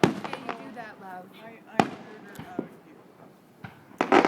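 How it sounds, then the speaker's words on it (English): Fireworks pop and bang in sharp, scattered bursts at mid distance while people talk excitedly in the foreground. "Look at everyone and tell them the fireworks."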